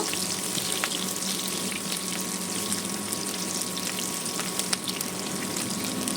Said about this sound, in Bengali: আমি একটা প্যানে তেল গরম করে নিয়েছি, এখানে পেঁয়াজ কাঁচামরিচ ভেজে নেব